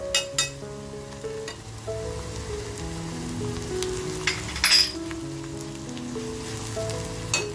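Onions frying in a pan as turmeric powder goes in, a steady close sizzle with a few spoon clinks and stirring scrapes, no talking.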